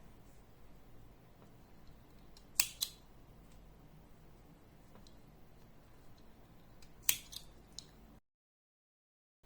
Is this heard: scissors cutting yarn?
yes